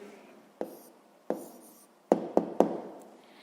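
A pen writes down the answer to a sixth-grade math problem on paper, heard as a few brief, close strokes and taps at irregular intervals against a quiet background.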